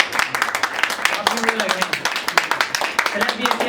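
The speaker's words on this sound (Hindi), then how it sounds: "एक बार अपने लिए जोरदार तालियां बजा" Audience claps during a Hindi poetry and shayari recitation, a burst of sharp, fairly loud claps in quick irregular rhythm that runs the whole stretch, with some crowd voices mixed in.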